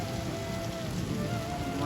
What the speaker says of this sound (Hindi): और बारिश भी हो रही है लगातार